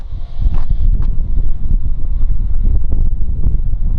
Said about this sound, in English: I know it's windy, so I'm going to speak up over the camera